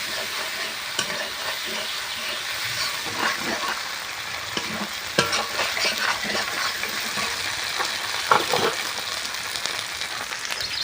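Ground spice paste sizzling in hot oil in a pan as dahi potol is cooked, a steady loud crackle with stirring scrapes and brief spatters throughout, no talking.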